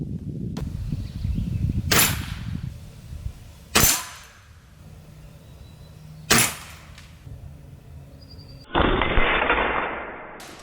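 A GAMO Viper Express .22 air shotgun fires JSB pellets, four sharp loud cracks spaced a couple of seconds apart, each with a brief decay, the last followed by a longer hissy tail.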